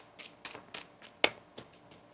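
A deck of tarot cards is shuffled by hand in quiet, close soft riffles and slides, with one sharper snap in the middle and a few lighter flicks after it.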